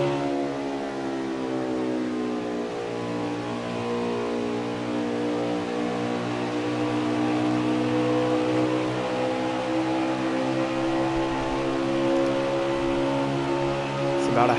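Race car engines in an online racing league game at Kentucky hold a loud, steady, droning roar throughout, with pitch slowly shifting as several cars run close together.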